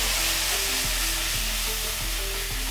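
Apple slices frying in butter and sugar for a caramel glaze, the pan just deglazed, give a steady loud sizzle with a low hum and a few soft clicks running underneath throughout.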